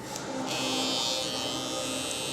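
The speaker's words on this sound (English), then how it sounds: "I'll hit the trimmer back here" An electric beard trimmer buzzes steadily and close up as it runs along the back of a beard for a faded line, a constant high whine with no talking.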